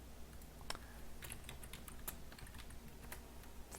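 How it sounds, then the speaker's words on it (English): Rapid, light clicking of a computer keyboard, close and quiet, with uneven keystrokes and a steady low hum underneath. "let me type a note back to my stream"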